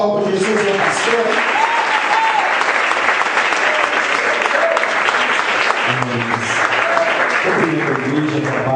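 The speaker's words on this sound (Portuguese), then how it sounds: "Uma salva de palmas para Jesus, meu pastor." A Pentecostal church congregation breaks into loud, sustained applause filling the hall for several seconds, with voices carrying over the clapping.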